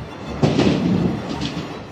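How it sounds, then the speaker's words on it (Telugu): NALCO freight trains rolling on rails in the Eastern Ghats between Koraput and Visakhapatnam make a steady rumble with faint rhythmic clatter, heard from a moving train and fairly close. "అక్కడ కనిపిస్తుంది చూసారా, నాల్కో ట్రైన్స్."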